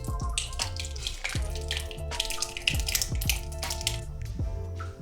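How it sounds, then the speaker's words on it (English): Liquid streams and splashes into a ring mold nearby, with scattered drips and small tapping knocks over a low steady hum; no one speaks. "Pour it into your ring mold, which can be silicone or metal."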